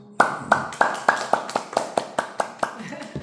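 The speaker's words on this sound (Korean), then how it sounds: "박수 한번." Church congregation clapping together in a steady, even rhythm, about a dozen sharp claps in a row, moderately close in a reverberant hall.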